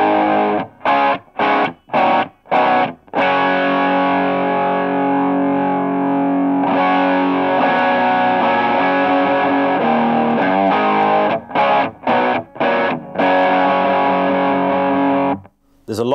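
Overdriven electric guitar through a ThorpyFx Gunshot overdrive pedal, loud and close, with thick harmonic distortion like a driven tube amp; bursts of short choppy stabs open and close the passage around a long sustained, ringing stretch of chords.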